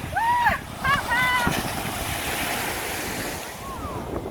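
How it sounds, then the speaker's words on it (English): High ocean waves breaking at Haeundae Beach in Busan, a continuous loud roar of surf with wind buffeting the microphone, and a voice speaking briefly near the start. "the waves are too high, the water is coming, and we cannot go into the water"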